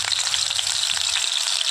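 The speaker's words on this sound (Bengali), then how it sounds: "আলুটাকে আমি এখন ভেজে নেব।" Small pieces of potato with salt and turmeric fry in hot oil in a kadai, giving a bright, continuous close sizzle with no voices over it.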